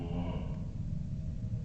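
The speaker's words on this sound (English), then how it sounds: "this is what the cow sounds are coming from" Cow mooing in a video game, a low drawn-out moo heard close and fairly loud, with a brief higher tone at the start, alone without talk.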